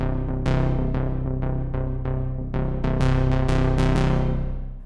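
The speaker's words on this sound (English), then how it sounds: "So I really like this dark orchestral hit on this pad." Nord Drum 3p dark orchestral hit pad built from a sawtooth wave with an added octave and reverb: a series of sharp, bright stabs with long ringing tails, roughly a dozen hits in uneven rhythm, loud and alone.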